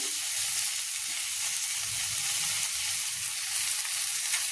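Drumstick leaves frying in oil in a pan, a continuous close sizzle with soft stirring rustles and no pauses.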